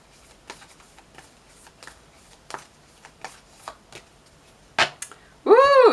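A Magickal spell card deck is shuffled up close, giving a string of soft riffling ticks and flicks. It ends in a louder burst of card handling.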